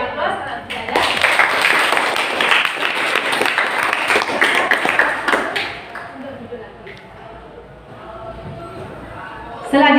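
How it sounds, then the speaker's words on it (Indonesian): Classroom applause from students, a burst of clapping that fills the room for about five seconds before fading into quieter room noise and murmurs. "Kita beri aplaus kalau tidak ada."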